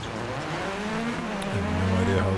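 Rally car engine droning and rising in pitch in the DiRT Rally racing game, a steady mid-level revving tone with a step up near the end, heard under a voice imitating the engine.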